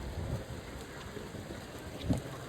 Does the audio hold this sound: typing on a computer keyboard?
no